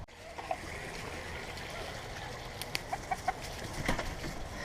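Chickens cluck in a backyard coop during cleanout, short clucks scattered over a steady background hiss, fairly close.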